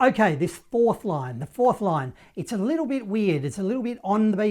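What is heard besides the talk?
No everyday noise stands out behind the speech.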